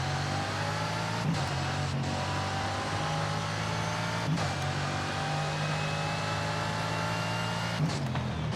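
A car in the Forza Horizon 5 video game cruises steadily, its engine holding a constant droning hum with slowly sliding pitch and a few brief clicks, with no talking.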